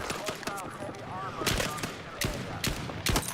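Rapid bursts of video-game gunfire crackle close up, mixed with sharper single shots at irregular intervals, while a voice talks over the shooting.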